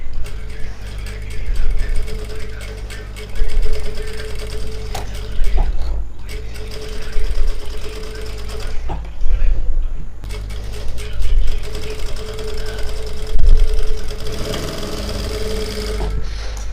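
Electric tailoring sewing machine stitching fabric, loud close mechanical whirring and rattling in long runs that stop briefly and restart several times.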